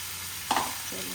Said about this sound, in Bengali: আলুর সঙ্গে মশলা কষাতে কষাতে যখন সাইড দিয়ে তেল ছেড়ে আসবে